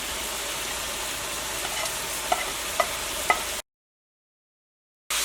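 Chicken fry masala cooking in a pan, a steady hissing sizzle with a few sharp clicks of stirring against the pan, then a cut to silence before the sizzle resumes briefly.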